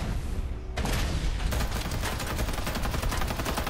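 Rapid, dense gunfire from a weapon in the video game Bugfall, a continuous loud burst of automatic shots filling the whole stretch after a brief quieter start.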